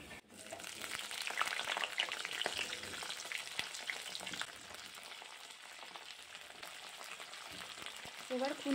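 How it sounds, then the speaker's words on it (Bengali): Cut cauliflower pieces crackle and sizzle steadily in hot oil over a fennel-seed tempering for a North Indian aloo gobi, a dense, continuous frying hiss that stays close and even, with a slight swell near the end. "এখন আমি কেটে রাখা ফুলকপিগুলো তেলের মধ্যে ছেড়ে দেব।"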